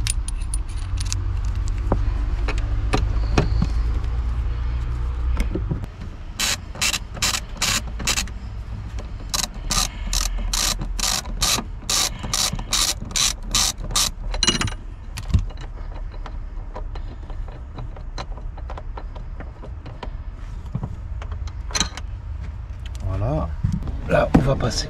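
A ratchet wrench loosens the large size-40 front seat bolts on a Peugeot 308, giving a rapid series of sharp clicking bursts close to the listener, with mechanical clunks and someone speaking in between.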